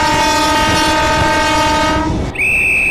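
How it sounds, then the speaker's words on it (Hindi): Horn of an EMU local train on Eastern Railways' Durgapur–Asansol route sounding at departure: a loud, close, sustained multi-tone blast lasting about two seconds, then cutting to a thin high whine. "हम लोग हॉर्न बजा देते हैं"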